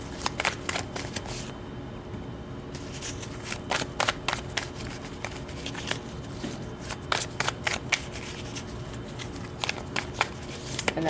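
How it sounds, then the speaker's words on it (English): Tarot cards are shuffled by hand in quick riffling bursts and soft flutters, close and fairly quiet, with irregular crisp snaps of card against card and no talking. "And I just want to get them nice and shuffled up"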